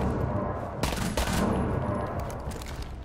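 Rapid bursts of automatic gunfire in the video game Rainbow Six Siege, loud and close, with sharp repeated shots clustered in the middle and scattered fire continuing around it.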